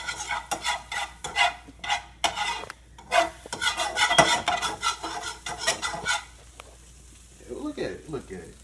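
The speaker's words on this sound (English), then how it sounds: "You see how it's sizzling?" Butter sizzling and crackling in a hot frying pan as more is thrown in, a close, busy frying hiss with scraping and stirring, easing to quieter gaps near the end.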